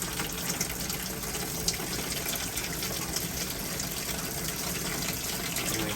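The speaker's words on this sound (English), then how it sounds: "Shower seems to be running pretty good." Water runs from an RV shower in a steady, hissing spray, close and constant throughout, with no speech over it.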